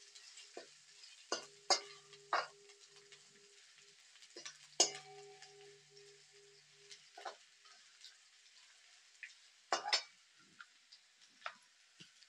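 Finely chopped ginger added to a hot pan for dal tadka, with scattered sharp ticks and pops of frying and stirring, quiet and intermittent, with a faint steady tone in places.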